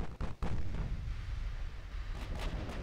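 Heavy battleship guns firing in the naval combat game Ultimate Admiral: Dreadnoughts, two deep booming shots at the start followed by a sustained low rumble and more distant reports near the end.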